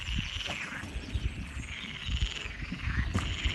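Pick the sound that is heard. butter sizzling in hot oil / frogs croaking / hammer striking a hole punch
frogs croaking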